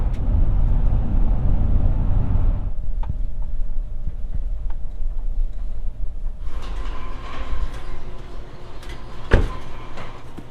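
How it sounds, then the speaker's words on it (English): A loaded van drives along a road with a loud steady engine and road rumble that drops to a quieter hum before rising again, with occasional knocks and one sharp bump near the end. "So we have the van loaded up and we're gonna head out."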